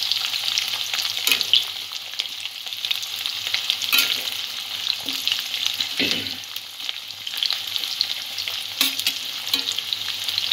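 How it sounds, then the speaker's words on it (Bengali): Onions lightly frying in a pan for chicken kalia, a steady close sizzle with intermittent scraping clicks of stirring, no voices. "পেঁয়াজটা হালকা ভাজা করে নেব"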